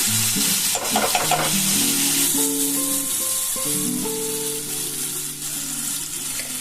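Ginger spice paste dropped into hot oil sizzles and fries steadily throughout, with some stirring and background kitchen noise; no one speaks.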